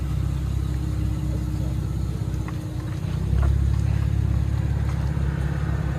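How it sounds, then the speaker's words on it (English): A Chevy Camaro 3.6L V6 with true dual straight-pipe exhaust idles with a deep, steady rumble, then the engine note rises and grows louder partway through and holds at the higher level. "Chevy Camaro V6. True dual straight pipe."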